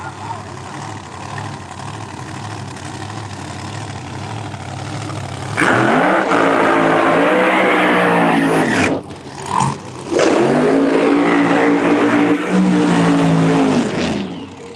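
Drag racing cars at Empire Dragway during qualifying: a low idle rumble builds into a loud, close engine roar, cuts off briefly, then roars again before fading.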